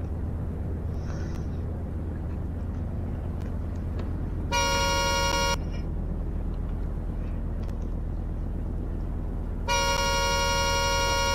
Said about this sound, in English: I'm gonna honk it for like so long.